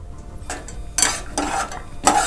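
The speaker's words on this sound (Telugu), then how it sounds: "నెయ్యిలో ఇలా కలుపుతూ ఫ్రై చేసుకోవాలి బాదం జీడిపప్పు" Almonds and cashews fry in ghee for jaggery rice-milk pudding while being stirred, giving a soft sizzle broken by several short, close scraping strokes of the spoon at uneven intervals.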